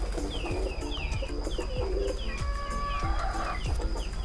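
A Modena pigeon, a fancy breed, coos softly while being held, giving repeated low throaty coos in a steady rhythm, with other birds chirping around it in a loft.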